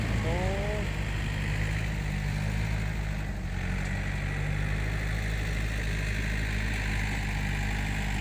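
A Yanmar farm tractor engine runs steadily at idle, a loud continuous low rumble close by with no pauses.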